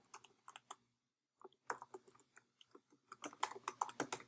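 Clicky typing on a computer keyboard with sticky, unresponsive keys, entered into real estate agent website software: short bursts of close keystrokes, a brief pause, then faster, denser tapping near the end.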